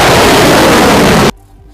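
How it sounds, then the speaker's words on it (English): A loud, dense roaring blast from an ATACMS long-range artillery missile launch at White Sands Missile Range, sustained at full force for over a second, then cutting off abruptly into a faint low rumble. "The Army Tactical Missile System, or Atacms, is a long-range artillery missile."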